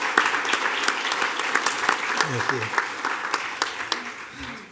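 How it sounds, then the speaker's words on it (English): Applause from the audience at a Duncanville ISD school board meeting, a steady crowd of clapping filling the room throughout, with a brief spoken thanks heard over it near the end. "It's okay to applaud as he comes forward"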